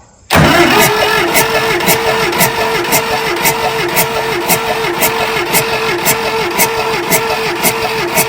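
A 1962 Massey-Ferguson diesel tractor engine cranks, kicking in abruptly with a loud, rhythmic churning that pulses steadily and keeps going without settling into a clean idle.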